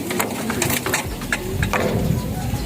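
Pigeons coo in repeated short calls over a steady hum of background noise, close by, with no talk.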